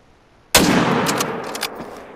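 A single sharp rifle shot aimed at a reindeer in a hunting video game, loud and close, its report rolling off into a long echoing tail with faint crackles.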